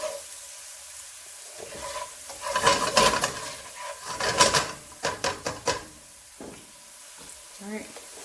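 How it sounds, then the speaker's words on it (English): Cayenne and other seasonings sizzle in a hot pan, a soft steady frying hiss with a few louder bursts of crackle and stirring in the middle, close and fairly quiet. "Let those seasonings start to cook a little bit."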